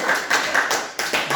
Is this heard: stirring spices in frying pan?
no